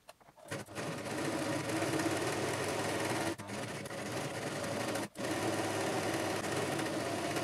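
A sewing machine runs steadily while stitching a shirt collar, with a loud continuous motor whir and rapid needle rattle. It stops briefly twice, then carries on at a constant speed, close up, with no talking.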